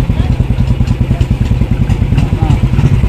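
Motorcycle engine running with a steady, pulsing low rumble and some clatter, close and loud, on a crowded road near a state-level fair at Hanol, Uttarakhand.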